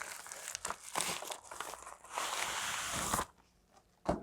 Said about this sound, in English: And then you have over here the soundbar in the plastic bag.